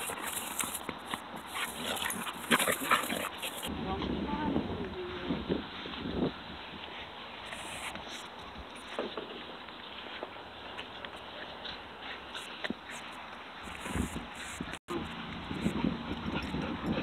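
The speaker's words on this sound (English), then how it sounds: "Piper the Staghound, she's a catch dog." A hunting hog-dog pack with a Staghound catch dog moving about and sniffing, heard as close, continuous shuffling, rustling and soft snuffling with scattered thumps and no voices.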